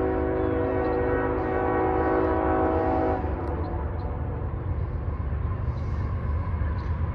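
An intermodal freight train rumbles past loud and close, its horn sounding steadily for the first three seconds before cutting off, leaving the heavy roll of railcars continuing alone.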